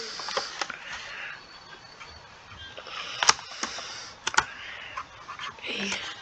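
Irregular clicks and taps on a computer keyboard while algebra work is typed, a few sharper key strikes among softer ones, with a voice speaking close by.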